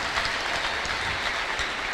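A church congregation applauds and ululates for Jesus during a prophet's service, a continuous dense wash of clapping and cheering holding level throughout.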